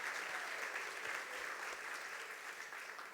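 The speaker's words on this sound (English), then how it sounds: "we can clap for that" An audience at an awards gala claps steadily, a dense continuous patter of many hands that fades slightly toward the end, fairly distant and on its own.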